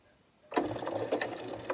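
A sewing machine starts up and runs off a short burst of about half a dozen stitches, a quick, steady mechanical chatter heard close and alone.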